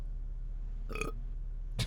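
A single short burp near the middle of a quiet stretch, followed by a brief second noise at the end, over faint room hum with no talk.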